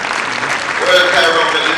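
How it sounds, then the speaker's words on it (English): Audience applause during a Martin Luther King keynote speech, steady broadband clapping from a large crowd that swells slightly midway and continues throughout, with faint voices mixed in. "we're clapping anyway"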